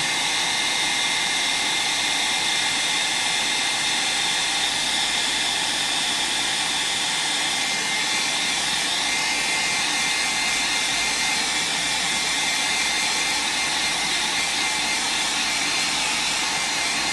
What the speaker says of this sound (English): Here goes the dryer.